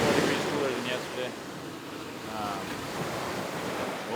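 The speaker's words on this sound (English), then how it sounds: "The waves are small, water temperature's about right" Small ocean waves breaking on a beach during surf fishing, a soft continuous wash and hiss with gentle swells, mixed with wind buffeting the microphone, close and steady.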